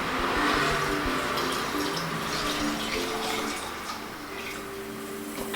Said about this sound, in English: Dissolve the water with the sugars and pour it inside.